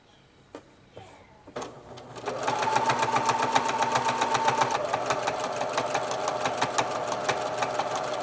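A home sewing machine runs steadily, top stitching close along a seam of a child's boxer brief, a fast even rattling hum that starts after a few soft handling clicks and continues loud and close to the end.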